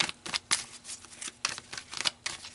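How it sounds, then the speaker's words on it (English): A deck of 71 tarot-style cards is riffled and shuffled by hand, a series of quick papery rustles and flutters in uneven bursts, close and quiet with no talk. "I like to give it a really good shuffle to make sure"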